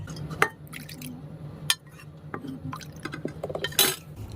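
A small amount of milk trickles and drips into a bowl of yogurt starter for sweet curd, soft close liquid splashes with a few light clinks of a utensil against the container.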